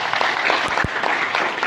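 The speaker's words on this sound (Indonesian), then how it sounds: "tepuk tangan untuk Bunda" Audience applauding after a speech, a short burst of dense, steady clapping from many hands at moderate distance.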